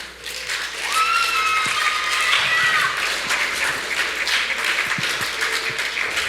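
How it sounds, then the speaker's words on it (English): A group at a lesson claps loudly and steadily for several seconds, with a few higher voices cheering over the dense applause. "let's clap really loud"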